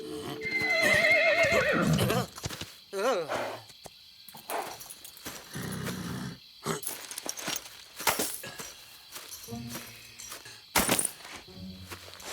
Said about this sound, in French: Rattrapez les chevaux!